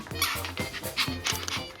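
Small Pomeranian dog giving a quick run of repeated yapping barks, about six in under two seconds, close and fairly loud with a steady rhythm.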